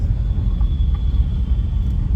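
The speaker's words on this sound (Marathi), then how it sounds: "एकदम वर्दळीचा रस्ता बोलतो ना, कंटिन्यू हेवी गाड्या इथं फिरत असतात." Continuous low rumble of heavy vehicles on a busy road near Kalamboli in Navi Mumbai, a steady nearby drone of engines and tyres with no voices.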